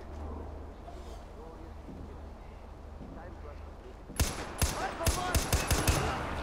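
Rapid gunfire bursts from the Far Cry 4 video game erupt sharply after several seconds of low background rumble, with repeated loud shots in quick succession.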